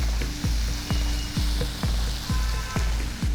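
Onion and ginger frying with turmeric in a pan, a steady loud sizzle broken by regular stirring scrapes roughly every half second, with no talk.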